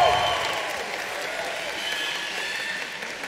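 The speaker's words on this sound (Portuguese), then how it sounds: "Muitos aplausos para a Gabriela" A studio audience applauds a contestant on a Brazilian TV show, a steady wash of clapping and crowd noise, louder at the start and holding level afterward.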